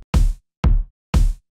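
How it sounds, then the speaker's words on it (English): Three punchy analog snare drum hits, evenly spaced about half a second apart, each with a bright, washy decay that fades quickly, played alone and close. "I just need really analog snare for this one"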